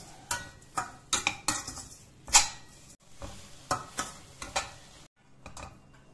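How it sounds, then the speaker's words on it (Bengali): Spoon scraping and clattering in a pan as orange and lemon peel pickle is stirred with jaggery, a string of close, uneven clinks and scrapes with a soft sizzle underneath, no voices. "এবার আমি ভালো করে মিক্স করে নেব।"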